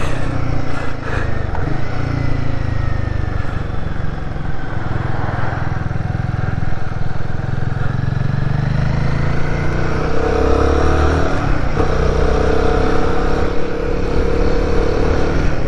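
Royal Enfield Guerrilla 450 motorcycle riding in traffic, its engine a steady close rumble under broad wind noise, with the pitch rising and falling slightly as it moves along, and no talk.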